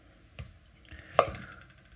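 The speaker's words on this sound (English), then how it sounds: "So I'm just gonna cut this up to pieces. Small chunks." A knife chops a garden tomato into small chunks for salsa, giving a few distinct cuts against a board. One cut is sharp and prominent, with quieter knocks around it in a still room.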